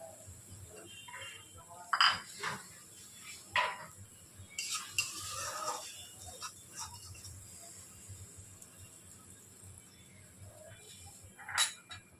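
Pointed gourds added to a pan and stirred with a metal spoon for a Bengali doi potol dish: scattered soft scrapes and clinks against the pan, with a faint sizzle in a quiet kitchen.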